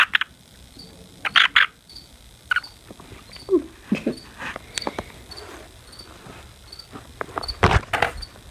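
Gray treefrog calls in an indoor animal-keeping setting, a few short bursts of croaking scattered among scuffles and handling noises, fairly close and moderately loud.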